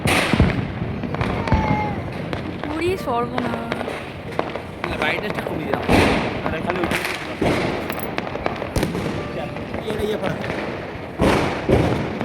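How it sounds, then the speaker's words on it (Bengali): Diwali firecrackers burst all around a rooftop, a dense scatter of sharp bangs and thumps near and far with whistling rockets, while people talk throughout. "চারিদিকে এত বোম ফাটছে"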